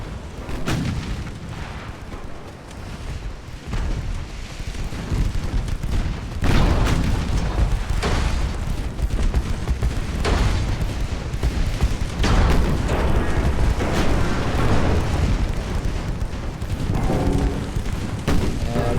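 Heavy naval guns from an 1890-era warship boom repeatedly in a fleet battle in Ultimate Admiral: Dreadnoughts, with loud deep blasts over continuous rumbling gunfire and a busy battle din.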